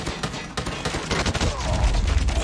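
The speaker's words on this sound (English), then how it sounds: "3 scoped in shots and it can't kill the guy" Rapid burst of scoped-in rifle shots in COD Mobile, a cluster of sharp loud cracks in quick succession, followed by continuing gunfire and game noise.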